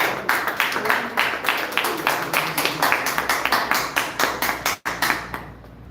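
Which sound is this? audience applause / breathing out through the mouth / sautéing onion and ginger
audience applause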